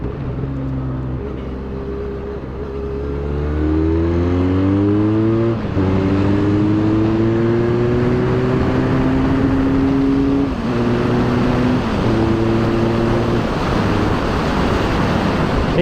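A 2024 Harley-Davidson X500, a 500 cc motorcycle, pulls onto the highway, its engine note climbing through the gears in rising revving sweeps over a steady loud drone of wind and road.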